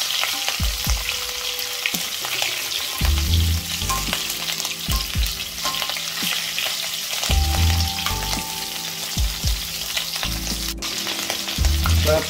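Prawns frying in a pan on high flame, a loud continuous sizzle and crackle, broken by repeated scraping and stirring knocks of a utensil against the pan.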